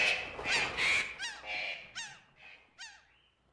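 Radio drama sound effect of birds calling: a string of honking, goose-like cries, several overlapping at first and then single calls spaced out over a few seconds, fairly clear against a quiet background.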